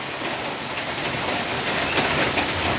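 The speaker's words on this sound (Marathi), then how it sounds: "आलाच पाऊस असाच आता कसं सुरू आहे" Dense, steady patter of rain falling, a continuous close wash of noise with no voices.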